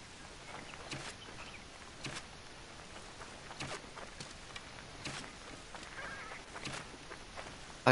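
Birds in Assassin's Creed Origins give goose-like honks, several short calls spaced irregularly over a steady hiss of background ambience, with no talk.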